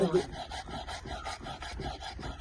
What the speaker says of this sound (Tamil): இவங்க கத்திலேயே எவ்வளோ அழகாக கட் பண்ணுறாங்க